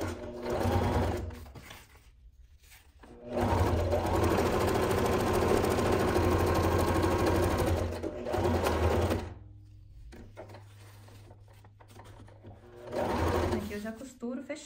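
A domestic sewing machine stitches a nylon bag in several long whirring runs of steady motor buzz, close and loud, broken by short pauses, with someone talking over and between the runs.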